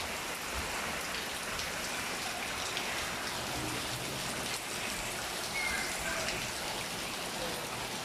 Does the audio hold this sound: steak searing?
no